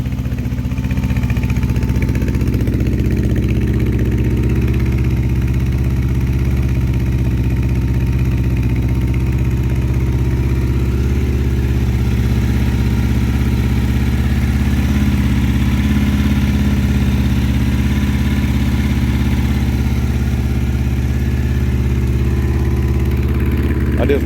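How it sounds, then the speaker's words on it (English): A 1984 Honda CB700SC Nighthawk motorcycle idles steadily on choke, a loud, close, continuous engine drone that holds an even pitch throughout with only slight swells, and a voice talks faintly underneath. "I'm having to run it on choke, so running good on choke, but I don't think it'll rev up."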